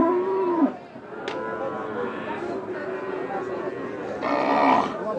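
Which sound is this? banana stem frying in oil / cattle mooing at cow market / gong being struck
cattle mooing at cow market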